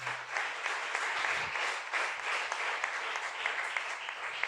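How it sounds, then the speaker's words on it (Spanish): A church congregation applauds steadily, a dense wash of clapping that holds for several seconds at moderate volume. "Dele fuerte el aplauso al Rey."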